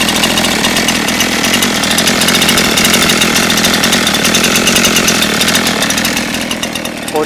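A 47cc gas scooter engine fitted with a standard carburetor, running at a steady, buzzy, high-revving pitch up close and loud, holding stable before easing off slightly at the end.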